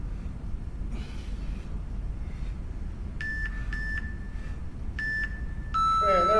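A workout interval timer beeps at the end of a strength class, giving a series of clear electronic tones in short bursts and then a longer steady tone, over quiet room noise.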